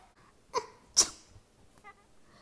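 A voice imitates a sneeze in a silly exaggerated way, with two sharp bursts in quick succession followed by a faint squeaky sniff, close and alone with no talk.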